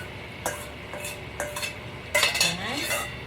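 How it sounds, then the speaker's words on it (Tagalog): Marinade sauce poured into a pan of frying pork steak, with a few sharp utensil clinks against the pan, then a louder burst of sizzling and splashing near the end. "Ilagay naman natin itong ating minarinate na sauce."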